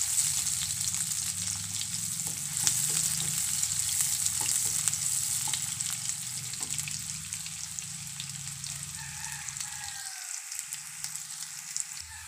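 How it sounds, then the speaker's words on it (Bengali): Onions and green chillies fry steadily in hot oil for a mutton and cabbage curry, a dense continuous sizzle close by with faint scattered pops, dropping away briefly near the end, no voices. "যে পেঁয়াজ আর লঙ্কা একসঙ্গে তেলে ভেজে নেব।"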